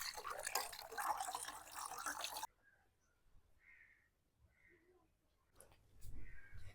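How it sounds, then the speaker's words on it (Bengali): Raw chicken meat being rinsed under a running tap: a steady, loud gush of water for a couple of seconds, then near silence with faint distant crow caws before the water flow resumes. "মাংসগুলোকে ভালোভাবে ধুয়ে নিন।"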